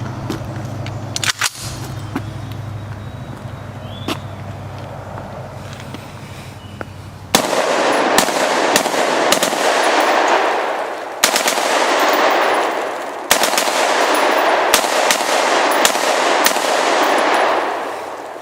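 An ARAK-21 rifle fires out a magazine: after several seconds of quieter handling, loud, close shots ring out in quick bursts and single reports, each with a sharp echoing tail, and no talk.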